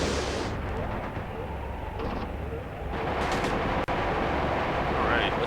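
Cuban infantry gunfire in the wartime tactics game Graviteam Tactics rattles on steadily as distant, muffled shots over a constant rumbling battlefield din. Someone talks over it throughout.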